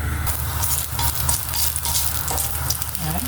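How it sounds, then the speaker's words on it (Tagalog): Salami and chopped long beans sautéing in a hot pan, a loud continuous sizzle and crackle with occasional stirring scrapes, close by and uninterrupted. "Igisa lang natin siya hanggang sa maluto o lumambot"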